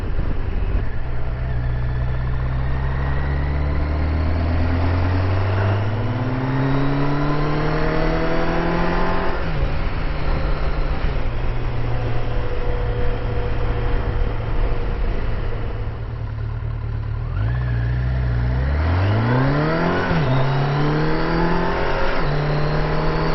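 A Chevrolet C10 pickup truck cruising on the road, its engine droning loudly and steadily from inside the cab, rising through gear changes with repeated upward pitch sweeps as it accelerates.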